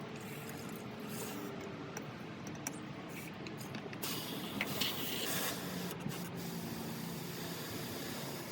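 A lawn treatment mixed with water sprayed onto grass, a steady close hiss that runs unbroken and swells slightly midway, with no talking.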